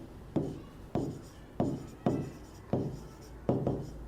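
Chalk or marker strokes scrape across a classroom board during a biology lesson, a run of seven short, rhythmic bursts close up, each a sharp rasp that trails off before the next.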